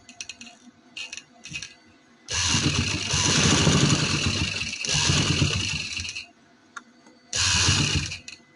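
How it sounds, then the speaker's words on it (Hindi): A sewing machine stitches a seam on trouser fabric while a carrot-leg trouser is being made, running in two loud sustained bursts of mechanical whirring separated by quieter pauses, with a third short burst near the end. "सिलाई मशीन से यहाँ पे एक टांका लगाना है"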